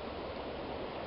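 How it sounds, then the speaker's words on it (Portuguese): Water trickling and draining through five small holes punched in the bottom of a one-litre bottle filter holding charcoal, a steady soft rushing flow, close and fairly quiet, with no talk. "Fiz 5 furos no fundo para a água sair."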